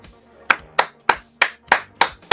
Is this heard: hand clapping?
yes